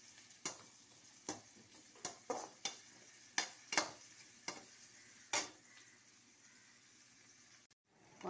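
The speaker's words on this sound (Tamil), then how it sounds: "வெங்காயத்தை நன்றாக வதக்கி பிறகு தக்காளியை போட வேண்டும்." Onions sautéing in a pan for a Tamil egg curry, with a low steady sizzle under a string of sharp spoon scrapes and clanks against the pan about every half second to second.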